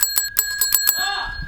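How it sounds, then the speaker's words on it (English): A bicycle-style bell fitted to a classic Mini under restoration rings in a quick series of bright, metallic dings, about seven strikes in the first second, followed by a lingering ring as a faint voice comes in. "Ding in the bell here, you know how it works."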